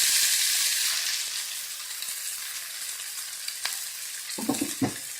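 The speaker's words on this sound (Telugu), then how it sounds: "అదే ప్యాన్లో కొంచెం ఆయిల్ వేసుకుని సన్నగా తరిగి పెట్టుకున్న వెల్లుల్లి, సన్నగా తరిగి పెట్టుకున్న అల్లం, గ్రీన్ చిల్లీ," Garlic, ginger, green chilli and capsicum fry in oil in a pan, a steady bright sizzle that fades slightly, with a few clinks and stirring knocks near the end and no talking.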